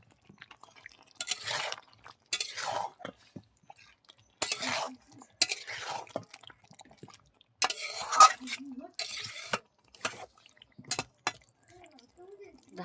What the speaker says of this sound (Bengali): আলুটাও দেওয়ার পরে কিছুক্ষণ আমি কষিয়ে নেব।